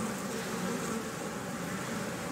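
A swarm of dangerous bees buzzes steadily and densely up close, a continuous drone filling the air with no pauses.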